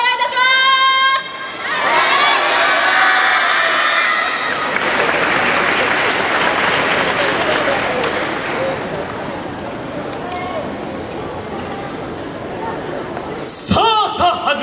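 Audience clapping along at a yosakoi dance performance at the Kobe Yosakoi 2014 Space Theater stage, a loud continuous wash of claps and crowd noise with shouts and music at the start, thinning briefly near the end.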